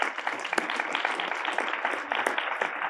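An audience at a film club evening applauds, a dense, continuous patter of many hands clapping at moderate loudness, steady across the whole stretch with no voices on top.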